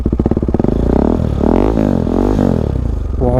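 A KTM RC 390 BS6 motorcycle fitted with an Akrapovic exhaust revs hard nearby, its engine note rising and falling through several throttle blips, with a deep, bassy rasp and a brief burble at the end.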